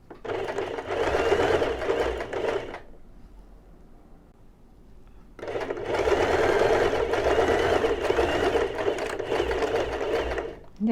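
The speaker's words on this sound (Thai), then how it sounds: "แล้วก็เย็บต่อมาให้เสร็จ" A sewing machine stitches a shirt collar with a fast, steady mechanical whir, running for several seconds, pausing in near quiet, then running again for a longer stretch, close and clear.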